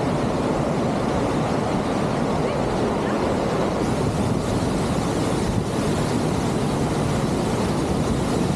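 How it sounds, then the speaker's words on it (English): Fast-moving river rapids and falls rush in a dense, steady roar, loud and close, mixed with some wind buffeting on the microphone and no talk. "which has also got some falls and some fast moving rapids"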